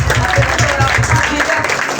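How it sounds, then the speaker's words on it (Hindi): Congregation clapping at a Sunday prayer meeting, a rhythmic, loud beat of hands in time with music, with a voice speaking over it. "जोर से तालियां बजाएं,"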